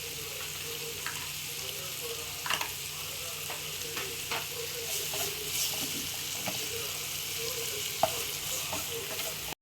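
Onions frying in a pan for aloo stuffed idli, a faint continuous sizzle under a low background hum with occasional light clicks of stirring, fairly quiet and steady.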